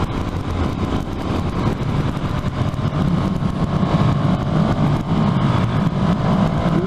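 A KTM 390 Duke motorcycle being ridden at speed, a steady loud engine drone with wind roar from the rider's position, no talking.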